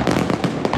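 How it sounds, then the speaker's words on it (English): Fireworks go off along a waterfront in a dense run of loud, rapid cracks and bangs, booming close with little pause between bursts. "A fireworks show along the waterfront capped off Friday night"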